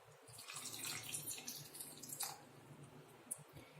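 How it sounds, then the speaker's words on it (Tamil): Water is poured into a glass holding ice cubes for carrot lemon juice, a faint trickling and splashing with a light clink near the end and no talking. "இங்கே ஐஸ் கியூப் போட்டதுக்கப்புறம் இப்போ தண்ணி ஊற்றலாம்"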